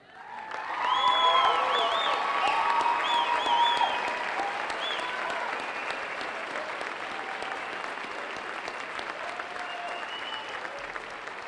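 A graduation ceremony audience bursts into loud clapping with cheers and whoops, peaking early and then settling into sustained, slightly softer applause for the rest of the stretch.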